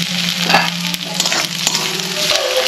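Chopped tomato, onion and garlic paste sizzle in a hot pan with steady crackling, and occasional scraping and stirring knocks sound close by.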